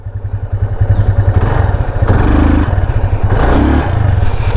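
A motorcycle engine, just push-started in second gear with a dead battery, runs loud and close with a rapid, throbbing exhaust beat and slight clatter, revving unevenly.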